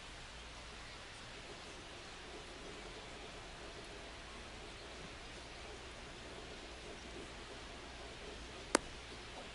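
Steady rain falling in MLB The Show 25, an even, continuous hiss of rainfall at a ballpark with one brief sharp click near the end.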